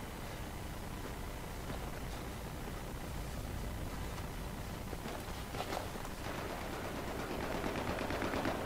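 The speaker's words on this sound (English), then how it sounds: "Yeah, I'm just shooting." Dense, continuous machine-gun fire in the Battlefield 3 video game, heard as a steady noisy wash of rapid shots with occasional footsteps underneath.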